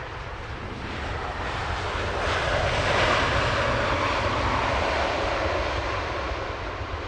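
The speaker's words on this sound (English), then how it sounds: "This is Japan Airlines Flight 41 from Tokyo. This one a 787-9 Dreamliner." A Japan Airlines Boeing 787-9 Dreamliner arriving from Tokyo at London Heathrow passes with a broad jet engine roar that swells to a peak midway and then holds steady, heard from outdoors at a distance with faint wind.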